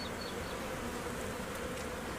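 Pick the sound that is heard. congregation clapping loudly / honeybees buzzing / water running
honeybees buzzing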